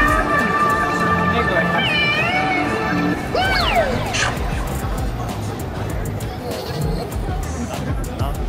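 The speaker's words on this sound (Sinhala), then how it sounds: "එනවනේ පූසගේ සද්දේ" A cat meows repeatedly amid the babble of a crowded Japanese city street, its cries rising and falling over close voices and traffic noise.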